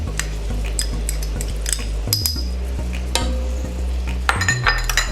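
Onions and garlic hit a hot pan and fry with a soft sizzle, while a utensil clinks and scrapes against the pan over a low steady hum from the stove.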